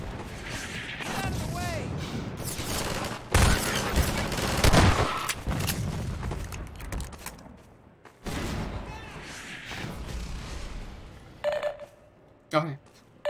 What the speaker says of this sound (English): Shotgun's great, man.